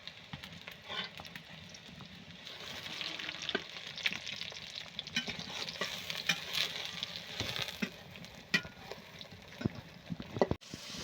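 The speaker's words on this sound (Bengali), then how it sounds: "এই যে সয়াবিন সুন্দর করে ভাজা হয়ে গেছে" Soybean chunks frying in oil in a pan give a soft, steady sizzle, with occasional scrapes and light clinks as they are stirred, fairly quiet and with no talk.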